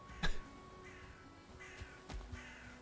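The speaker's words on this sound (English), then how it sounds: "Hello, Corvids. Hello, crow friends." Crows caw in the Valheim video game, a few scattered calls with a sharp nearby knock at the start, amid quiet ambient game sound and no talking.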